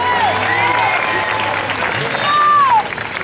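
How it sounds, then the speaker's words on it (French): Applause rises from a crowd at a public ceremony in Brussels, mixed with chatter and voices over the clapping. "Merci d'applaudir, mesdames, messieurs"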